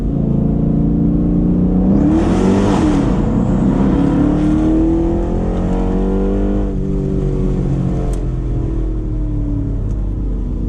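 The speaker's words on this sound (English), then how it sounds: "Sounds awesome, guys. Sounds a lot better than my car" A cammed 2006 Chrysler 300C SRT8 with a 425-horsepower V8 revs hard through a tunnel underpass, its loud booming exhaust rising and falling, then settling into a sustained echoing drone.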